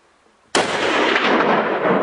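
A single loud rifle shot cracks out during a Rocky Mountain bighorn sheep hunt, a sudden blast followed by a long rolling echo that carries to the end.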